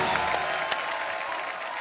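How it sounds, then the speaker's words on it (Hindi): A studio audience on a Hindi television comedy show applauds a star's entrance: a dense, continuous roar of clapping blended with background music, with a few sharper claps poking through. "जोरदार तालियों के बीच"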